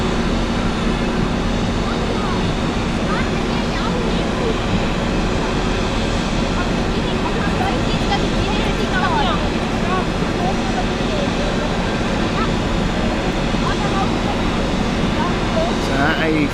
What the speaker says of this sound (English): As we have another Swiss takeoff, we'll focus on that in a minute